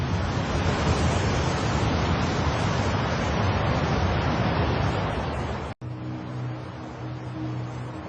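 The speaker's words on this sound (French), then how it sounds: "L'énorme masse de l'océan repoussée par le choc réinvestit ce cratère béant." Ocean water rushing back into a huge 200 km-wide impact crater, a steady, dense roar of surging water like heavy surf, loud and continuous with one brief dropout near the end.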